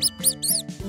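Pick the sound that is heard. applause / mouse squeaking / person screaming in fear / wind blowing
mouse squeaking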